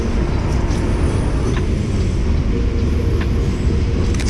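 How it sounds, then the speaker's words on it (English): A train passes close by on a city street, making a loud, steady low rumble and roar that holds without a break, with faint high squeals on top and no voices. "Oh, here comes a train."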